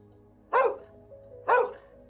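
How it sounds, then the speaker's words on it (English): A dog in a children's story barks at a nursery window where a young boy appears. Two loud, close barks, evenly spaced about a second apart, stand alone over a quiet background. "Nana barks and shuts the window quickly"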